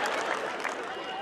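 Applause from a seated hall audience at a Bollywood night comedy show, a steady dense wash of clapping with some crowd murmur, filling the whole short moment.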